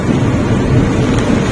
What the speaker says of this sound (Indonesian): Sudah mulai hujan.